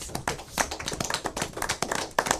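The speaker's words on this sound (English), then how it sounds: "So I got to clap it up for MAB right now" Scattered hand claps, several sharp slaps in an uneven pattern, close and fairly loud with no talk over them.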